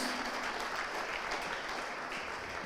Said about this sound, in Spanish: Denle un aplauso al Señor fuertemente